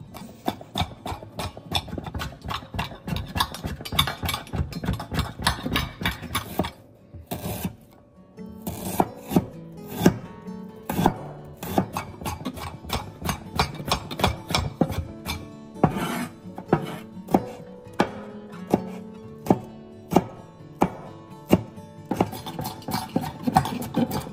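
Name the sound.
knife chopping garlic, onion and ginger finely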